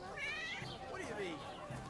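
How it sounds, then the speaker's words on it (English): A cat meowing in the medieval video game Kingdom Come Deliverance 2, a couple of short rising and falling meows heard at moderate distance amid tavern chatter and voices. "I heard a cat."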